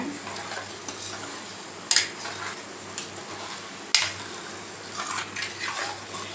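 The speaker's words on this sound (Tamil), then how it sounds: "இப்போ பருப்பு கடைஞ்சி வச்சுருக்கோம் பார்த்தீங்களா அதே இதில் ஊற்றிடலாம் ஊற்றிட்டு நல்லா மிக்ஸ் பண்ணிக்கோங்க" Mashed dal is poured into tomato sambar and mixed in, with soft wet stirring and two sharp ladle knocks against the pot, close and unhurried.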